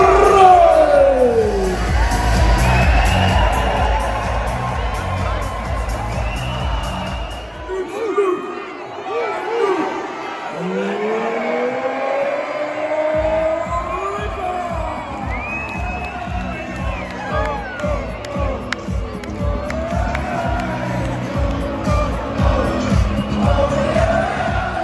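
A darts crowd at the main stage of the UK Open weekend in Minehead roars and cheers, with shouts and whoops rising and falling and a voice talking over the din.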